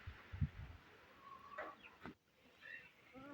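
Chickens squabble nearby, a few short squawks and clucks against a quiet yard background.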